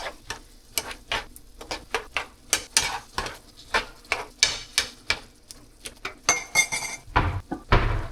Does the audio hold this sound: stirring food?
yes